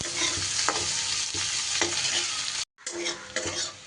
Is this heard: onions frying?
yes